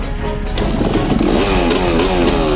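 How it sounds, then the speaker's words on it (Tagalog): A motorcycle engine sputters to life and revs up, loud and close, its pitch rising and wavering as the throttle opens. "Muntik pa hindi umandar yung motor ko."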